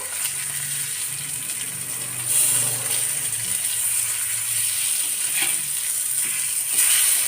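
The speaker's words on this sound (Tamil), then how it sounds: "இப்போ நம்ம மீனை பிரட்டி போட்டுருவோம்" A whole fish, wrapped in banana leaf, frying in a pan: a constant loud hiss of hot oil, with soft scraping and shuffling as the fish is turned over and the sizzle swells briefly.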